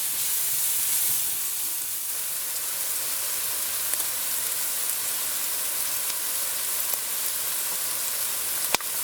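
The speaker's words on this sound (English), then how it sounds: "So I'm just going to let this saute in here for a few minutes until the" Onion sautéing in a pan of garlic-infused oil gives a steady, even sizzle and hiss throughout, close and uninterrupted, with one small sharp click near the end and no talking.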